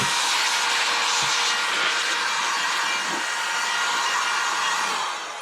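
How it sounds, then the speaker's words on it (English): Continuous rushing blast of air blowing loose dust off a laptop, loud and steady throughout before easing slightly at the end, no voices. "You want to blow any of the loose dust off from the gate so that you're not collecting that loose dust."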